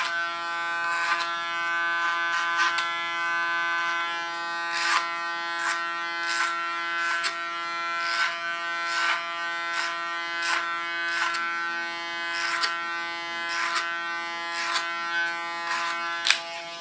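Electric hair clipper buzzes steadily and close during an ultra-short summer haircut, with its hum swelling in brief pulses as the blades pass over the head, no voices.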